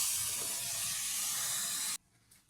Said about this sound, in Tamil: கொஞ்சமாக மஞ்சள்தூள் போட்டு உப்பு போட்டு தக்காளியும் சேர்த்து நல்லா வதங்க விடணும்.